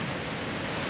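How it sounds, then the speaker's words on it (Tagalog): Storm surf pounding the shore during Typhoon Glenda, a dense, continuous roar of waves mixed with wind, loud and steady throughout with no voices. "Nagngangalit ang alon."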